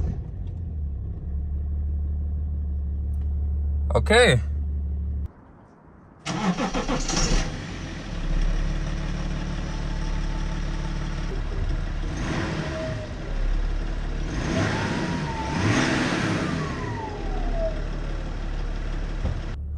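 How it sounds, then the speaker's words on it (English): A BMW E90 325d diesel engine with new glow plugs cranks and catches after a brief silence, then settles into a steady idle; a voice says a short word near the end. "the car is actually idling fine"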